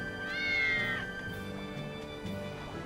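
A single drawn-out cat meow in the video game Tales of Berseria, clear and close, followed by quieter background tones and a few soft murmured sounds.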